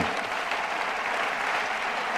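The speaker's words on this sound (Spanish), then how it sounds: "Un aplauso y un abrazo muy grande para todos aquellos que se han quedado fuera" A crowd under a dome at a political rally breaks into dense, sustained applause, a steady roar of many hands clapping at once with no talk over it.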